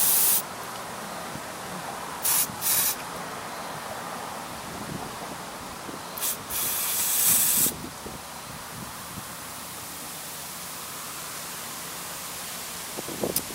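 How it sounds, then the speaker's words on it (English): Short hissing bursts of aerosol carb cleaner sprayed into the carburetor holes of a RedMax EBZ7500 backpack blower, a couple brief and one longer, against a steady background hiss with no talking. "So I'm just spraying down this hole,"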